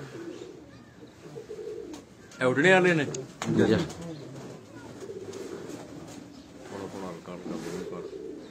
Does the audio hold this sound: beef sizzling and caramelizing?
no